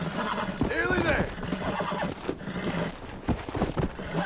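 A horse whinnies loudly and gallops in the game Red Dead Redemption, a long shrill neigh over steady clip-clopping hooves, with someone talking over it.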